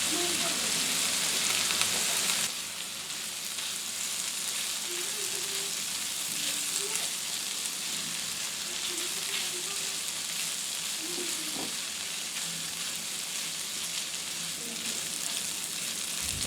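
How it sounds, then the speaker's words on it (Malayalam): Prawns frying in a pan with grated coconut and curry leaves, a steady dense sizzle that runs throughout, close and even, with faint stirring scrapes and no talk. "ഈ ചെമ്മീൻ്റെ കൂടെ ഇത് നന്നായിട്ട് മിക്സ് ചെയ്ത് കൊടുക്കാം"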